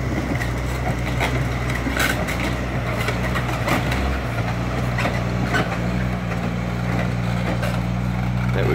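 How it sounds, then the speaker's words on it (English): A six-wheel drive dump truck hauling cleared trees along a pipeline route rumbles steadily with a low engine drone, loud and close throughout, with no speech. "That would be a six-wheel drive dump truck, probably hauling, I don't know, somewhere around 10 or 15 cubic yards of what used to be trees"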